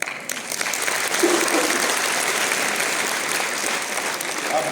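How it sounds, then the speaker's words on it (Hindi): A hall full of students at an IAS/KAS career counselling seminar breaks into loud, sustained applause, a dense wash of many hands clapping together, steady for several seconds with a slight surge near the end. "जब कुछ अच्छी बात लगे तो जोर से ताली बजाना।"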